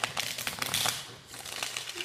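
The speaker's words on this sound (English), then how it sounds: "I'm just shuffling these cards" Oracle cards shuffled by hand in a steady run of soft riffling, papery flutters close to the listener with a brief lull partway through.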